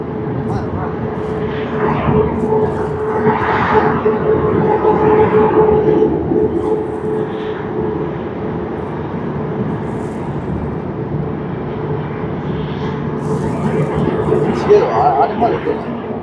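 An ANA Boeing 787-9 airliner taxis at a snowy Tokyo Haneda Airport with a steady engine roar and whine throughout, while people talk over it.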